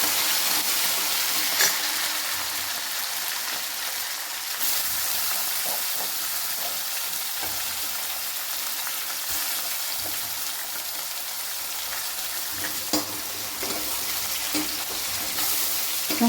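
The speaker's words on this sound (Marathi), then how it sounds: "त्याच्यातच आपण आता टमाटर टाकून घ्यायचं. टमाट्याला पण छान असं परतून घ्यायचं." Tomato and garlic sautéing in a pan for palak rasa bhaji, a soft steady sizzle with occasional light stirring clicks, fairly quiet and close, with no talking.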